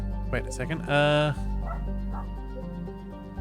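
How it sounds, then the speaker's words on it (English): A Cavoodle dog barks and yips in the background, loudest in a short burst near the start, while someone talks over game audio from Mass Effect 3. "my apologies if you can hear a dog in the background"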